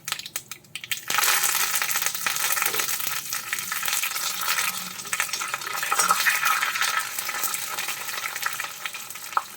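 Mustard seeds, dried red chilies and curry leaves crackle and sizzle in hot oil as a tempering, starting abruptly with a loud burst and continuing as dense, steady spitting and popping.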